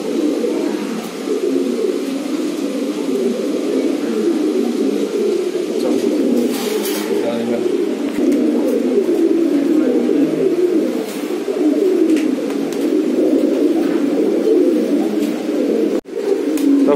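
Giribaz pigeons in a collection cooing continuously, a dense layer of overlapping low coos from several birds close by, with occasional faint rustles and a brief knock near the end.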